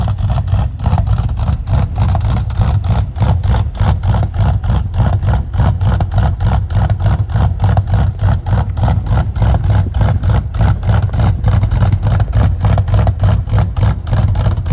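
Dentside Ford truck engine running after starting, a loud, close rhythmic thrum pulsing evenly throughout with heavy low rumble, no talking.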